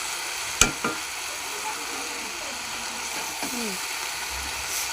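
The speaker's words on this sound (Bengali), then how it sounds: "তরকারি রান্না হচ্ছে এখানে।" A vegetable curry fries in a pan with a steady, soft sizzle, broken by a couple of sharp utensil knocks and scraping stirs, heard close at moderate volume with no clear talk.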